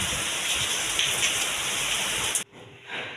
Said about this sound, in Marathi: खूप पाऊस चालू आहे बाहेर.